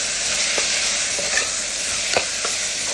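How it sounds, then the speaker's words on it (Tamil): Tomatoes and green chillies sizzle and fry in a pan for mutton offal fry, with a steady hiss broken by several sharp scraping stirs of the spoon against the pan, close and moderately loud. "4 பச்சை மிளகாய் சேர்த்து மிக்ஸ் பண்ணிடுவோம்."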